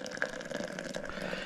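Hot water pours steadily from a pump-style dispenser into coffee grounds, giving a continuous close-up splashing, filling sound with no talk.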